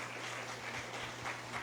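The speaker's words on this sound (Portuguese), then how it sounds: "Então vamos aplaudir ao Senhor pelo nosso" A church congregation applauds during a Sunday service, a soft, steady wash of clapping heard from a distance with a low hum underneath.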